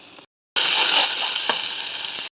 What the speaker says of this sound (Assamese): ইয়াতে এতিয়া আদা নহৰু পেষ্ট দি দিম